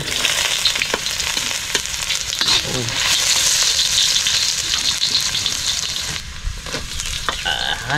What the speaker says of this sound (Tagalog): Gisa na tayo mga karabas ng luya.